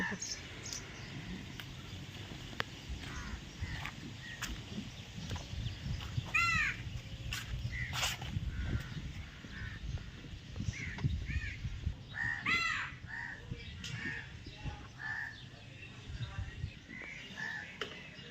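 Crows caw in short bursts off and on over a steady bed of insect chirring and low outdoor rumble.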